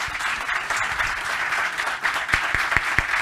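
Applause from a conference audience at a Catholic congress, a steady dense wash of many hands clapping that carries through the whole stretch, with a few louder individual claps standing out near the end.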